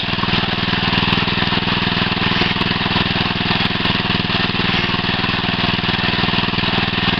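A deep well drilling rig's engine runs steadily at a loud, close, constant pitch while drilling, with a dense mechanical drone and faint rhythmic knocking throughout, with no voices.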